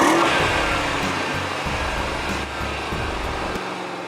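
A Mercedes E63 AMG wagon accelerating up a highway on-ramp, its engine droning steadily with stepped tonal shifts as it pulls, loud and close from inside the cabin.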